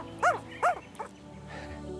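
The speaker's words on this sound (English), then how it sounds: "Those little sounds are so cute, little whimpers." Tasmanian devil joeys pulled from a pouch give a few short high whimpers, two clear squeaky cries close together followed by a fainter one, then quiet.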